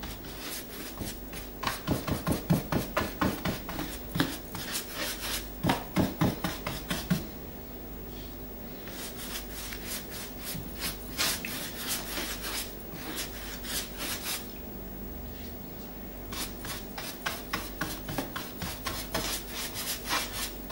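A brush works wood protection product into furniture with repeated scrubbing strokes, rhythmic rubbing in bursts with short pauses, close and moderately soft.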